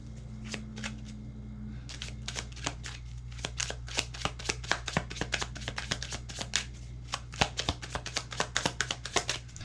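Tarot cards shuffled by hand in a steady run of crisp riffling flicks and slaps, close and clear over a low constant hum, with no talking.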